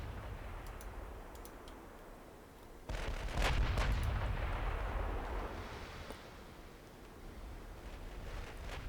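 Naval ship guns firing in the game Ultimate Admiral Dreadnoughts, with a deep booming salvo landing over a steady rumbling background of sea and engine noise, followed by sharp clicks and a lingering roar.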